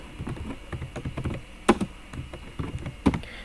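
Fast, uneven clicking of a PC computer keyboard as a file name is typed in a code editor, close and fairly loud with a couple of sharper key strikes.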